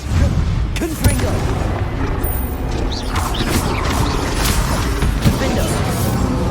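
Confringo fire-spell explosions in Hogwarts Legacy amid a busy battle, repeated booms and crashes over a continuous loud rumble of combat.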